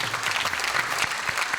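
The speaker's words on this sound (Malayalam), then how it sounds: "എല്ലാവരും ഒരു കൈയടിച്ചേ" Steady, dense applause from a television show's studio audience, sustained and fairly loud throughout with no voices on top.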